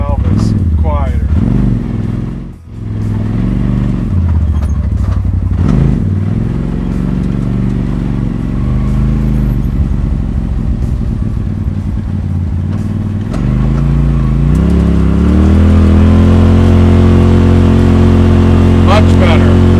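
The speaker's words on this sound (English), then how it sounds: "I'm gonna take it for a little ride here and see if the blow-off valve is quieter." Polaris RZR XP Turbo side-by-side driving with a steady mid-pitched engine drone that rises and falls through gear changes and throttle, a brief dip near the start, then climbing louder toward the end; voices come in at moments.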